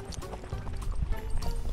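A 22-year-old endurance horse walks along a trail, hooves clip-clopping in a quick, close, steady rhythm.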